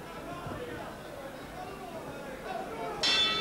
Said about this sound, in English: Bell to end.